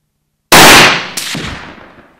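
Rifle shots from a .270 WSM firing Norma Kalahari bullets ring out loud and close, two sharp cracks in quick succession, each trailing off in a long echoing decay.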